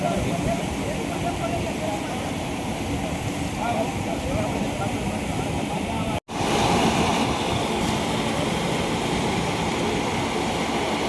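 Canal water from the Sauni scheme flows into a river in the Maliya Hatina area, a steady, loud rushing wash that continues throughout, broken by one brief dropout midway.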